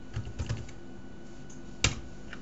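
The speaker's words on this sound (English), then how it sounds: "we type in a command called raspberry-config" Computer keyboard typing with a few quiet key clicks in a short burst, then a single sharper keystroke, faint and close with no talking.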